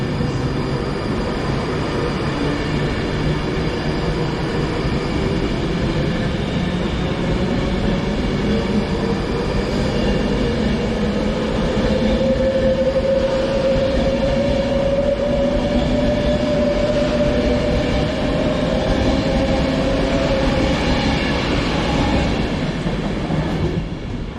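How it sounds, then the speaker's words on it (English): A passenger train rumbles steadily alongside a platform at Preston station, wheels clattering, with a rising whine as it slows to arrive; no talking. "In comes the 1607 delayed service to Manchester Airport."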